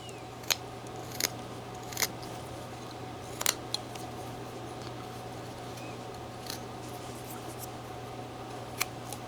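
Knife whittling a block of 3/4 inch wood into a small figure, faint scattered cutting clicks and slices at irregular intervals over a quiet steady hum, no talking.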